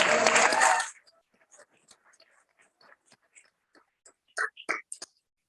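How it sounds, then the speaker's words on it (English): Applause from the audience at a college board of trustees meeting: a loud, dense burst of clapping that ends after about a second, followed by quiet speech. "Round of applause for Danielle."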